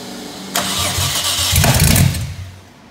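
An RB25 engine cranks, then fires up with a loud, sharp pop and a burst of revving before settling toward a rough idle, close and prominent.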